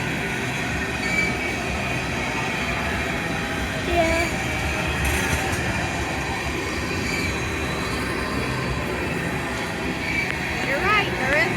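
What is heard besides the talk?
CSX tanker train passing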